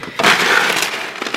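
A cup lid falling off a kitchen counter, landing with a sharp, bright clatter and then rattling and rolling for about a second before settling.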